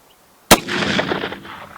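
Single sharp gunshot from an original 1860 Colt conversion revolver, loud and close, followed by a ringing, echoing decay.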